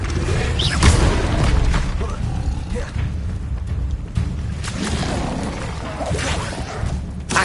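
A Confringo fire-blast spell from Hogwarts Legacy erupts amid dense game action, a loud booming crash with whooshing bursts around one and five seconds over a continuous rumbling bed.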